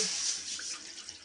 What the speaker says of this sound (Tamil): ஆஃப் கேஜி ரைஸ்க்கு ரெண்டு லிட்டர் தண்ணி ஊற்றினா போதுமானதாக இருக்கும்